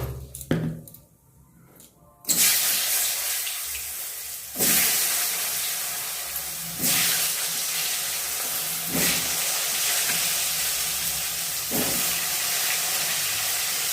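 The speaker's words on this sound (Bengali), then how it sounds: "তেলের মধ্যে একটুখানি নুন দিয়ে, যেহেতু সেদ্ধ করা, তো এর ভিতরে একটুখানি হলুদ দিয়ে আর একটু নুন দিয়ে আলুগুলো একটু ভেজে নেব" Boiled potatoes fry in hot oil with salt and turmeric, a broad hissing sizzle that starts abruptly after a quiet moment and keeps going loud and steady, swelling with several stirring surges.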